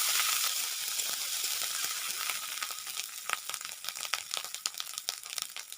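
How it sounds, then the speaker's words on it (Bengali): Onion paste fries in oil with whole cumin seeds, a bright continuous sizzle with scattered crackles and spits that turns choppier and more popping toward the end. "দিয়ে দিলাম একটা বড় পেঁয়াজ বাটা পেঁয়াজটা ভালো করে ভেজে নিতে হবে"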